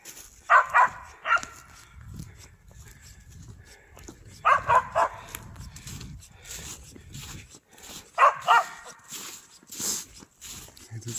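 A hunting dog barks at a squirrel in a pine forest, giving three short bursts of several barks spaced a few seconds apart, moderately near, with quiet talk and rustling between them.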